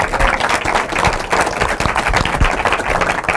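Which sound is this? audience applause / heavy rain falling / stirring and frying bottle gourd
audience applause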